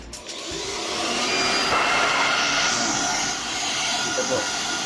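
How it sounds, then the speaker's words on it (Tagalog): A Stanley STPT600 blower vacuum runs with a loud, steady whooshing roar that swells after starting up and holds constant. "So ito po yung vacuum, kung magba-vacuum ka."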